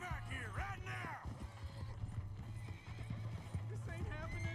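A horse in Red Dead Redemption 2 whinnies loudly at the start, followed by steady clip-clopping hooves throughout, and a second neigh comes near the end; some speech mixes in faintly.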